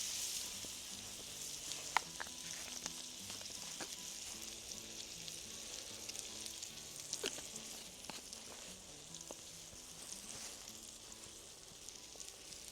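Ribeye steak searing in butter in a pan at a winter truck campsite gives off a steady, fairly soft hiss with a few scattered pops and clicks throughout, and no one speaks.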